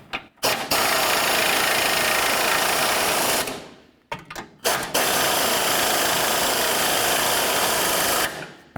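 Power tool snugging the engine mount bolts on a 2007-17 Jeep Compass, two loud sustained whirring bursts of a few seconds each, separated by short gaps and brief starts.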